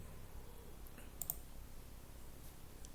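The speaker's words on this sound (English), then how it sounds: "by clicking on the submit button." A couple of quick, faint mouse clicks close together on a submit button in a spreadsheet entry form, set against near silence.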